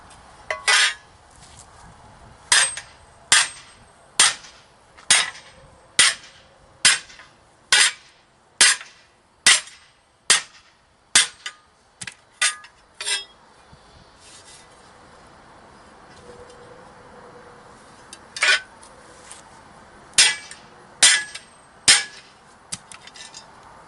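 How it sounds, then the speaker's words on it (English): Hammer blows flatten a 1/8 inch creased metal part from a Bobcat 331 excavator: a quick run of about fifteen sharp, evenly spaced metallic strikes, a pause, then a handful more, close and clear with no talking. "let's go on ahead and start flattening it down."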